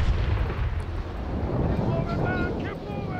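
Cannon fire from HMS Surprise, a sailing warship in the Naval Action video game, booms as a dense, continuous low rumble of repeated shots over water, with a voice briefly audible in the background.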